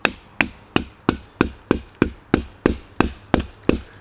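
A red dot sight mount is hammered against a tree, about a dozen sharp woody knocks in a steady, rapid rhythm, each one loud, close and quickly fading, with no talk.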